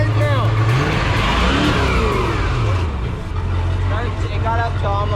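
A boat's engine revs up and holds at a raised pitch to charge the battery during a launch in a severe hailstorm, loud and steady with harmonic sweeps rising and falling, while voices talk over it.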